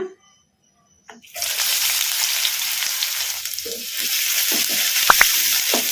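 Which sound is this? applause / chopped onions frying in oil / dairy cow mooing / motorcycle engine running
chopped onions frying in oil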